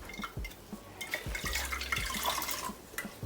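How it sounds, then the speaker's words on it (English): Coconut milk squeezed by hand from a cheesecloth bag, trickling and dripping into a container in a home kitchen, with small wet splashes and soft clinks repeating through the short stretch, close and fairly quiet. "at this point I'm going to squeeze out the coconut milk from the cheese bag"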